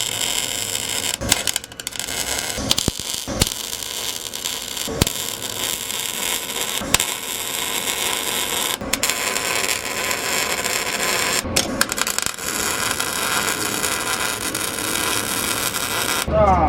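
An arc welder crackles and hisses steadily while welding on an EF sedan, where the ground clamp got welded on, making a dense, continuous buzzing crackle with occasional sharp pops as a man mutters over it.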